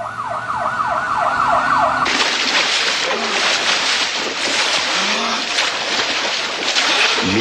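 An ambulance siren wails in rising and falling sweeps for about two seconds near the start. It is then abruptly drowned out by loud, steady broadband noise that continues to the end.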